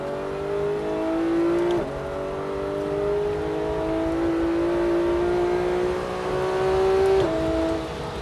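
Porsche 911 GT3 accelerating hard on the Grand Sambuc circuit near Aix-en-Provence, its engine note climbing steadily through long pulls with two sharp gear changes, loud and close throughout with no talk.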